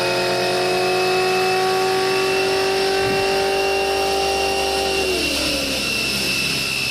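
A car engine held at very high revs, a loud sustained whine with a slowly rising pitch that drops sharply near the end, alone without voices.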